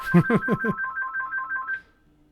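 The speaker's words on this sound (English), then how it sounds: "Uh-oh. Phone call." An incoming phone call rings out as a repeating electronic ringtone, a run of quick bright tones that pulses steadily for under two seconds, then stops and leaves near silence.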